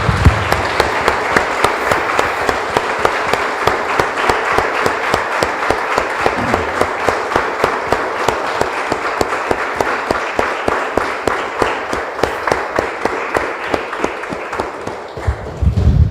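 Congregation applause in a church after a prayer, sustained rhythmic clapping from many hands in a steady beat for over fifteen seconds, loud and close, with little talk beneath it.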